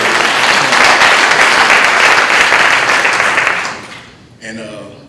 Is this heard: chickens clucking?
no